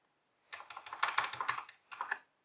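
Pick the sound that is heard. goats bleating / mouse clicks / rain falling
mouse clicks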